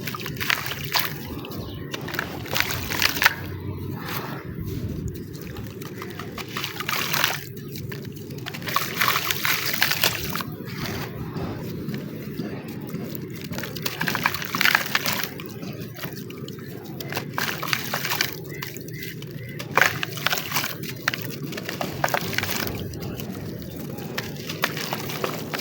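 Chalk crumbles into a bowl of water, producing a steady run of wet sloshing, squishing and dripping sounds with irregular soft bursts, close up and continuous throughout, with no talking.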